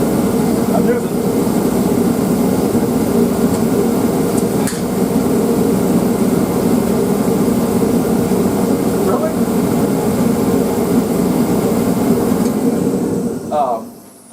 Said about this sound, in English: I'm using a torpedo heater right now because I don't have the in-floor heat ran yet